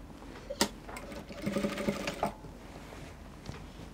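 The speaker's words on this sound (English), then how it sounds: "So you're going to be hemming the sleeve opening." A sewing machine hems the slippery fabric of a kimono sleeve opening, running in a short burst of rapid needle stitching between a few isolated mechanical clicks, close and moderately quiet.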